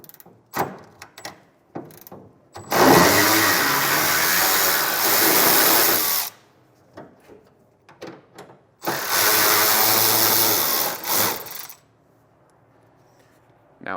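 Ratchet with a 10mm socket backing out a bolt on a brace attached to the fender of a 2015 Ram pickup, two long loud bursts of rapid clicking separated by short taps and handling noises.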